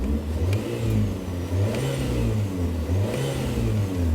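An Alpine A110S sports car engine revs repeatedly, rising and falling in loud deep surges, close by with no voices.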